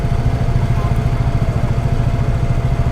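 A tuned Kawasaki ZX-10R superbike idles in city traffic with its engine running hot, making a loud, steady, close low rumble with a fast even pulse throughout and no speech.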